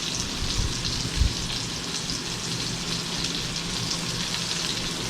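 Cooked rice fries in a hot pan with a dense, even crackle and sizzle that sounds like steady rain, broken by one soft thump near the start.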